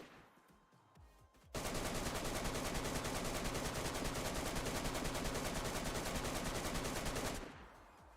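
Sustained automatic gunfire aimed at a player in the video game DayZ, a loud continuous burst of rapid shots that starts abruptly and runs unbroken for about six seconds before cutting off.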